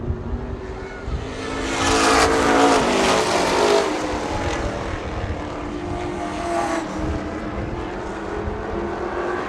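Pro Stock race cars roar down the track at an auto racing event, a loud sustained engine howl that swells early and then holds steady as the cars pass.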